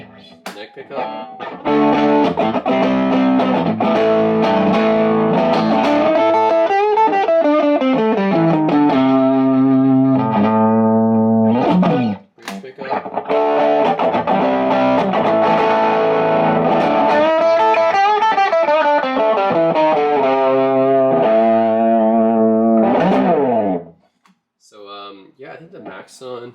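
Overdriven electric guitar on the neck pickup through a Maxon overdrive pedal, playing loud, sustained chords and melodic bends in two long phrases separated by a brief pause, with a short quiet tail at the end.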